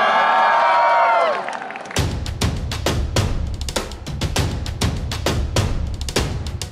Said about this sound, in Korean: 저희 선주님의 오늘도 빛나는 여행을 박수 부탁드리겠습니다.